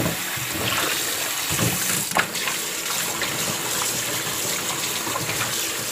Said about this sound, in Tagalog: Sa malamig na tubig ko siya hinugasan.